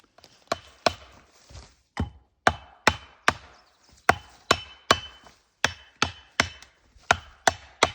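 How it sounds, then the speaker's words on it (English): Steel wedges are hammered into a red fir being felled by hand, a steady series of sharp, ringing whacks roughly twice a second with short decays between strikes, close and clear with no talking. "finish the job by hammering the wedges instead of sawing the hinge all the way through"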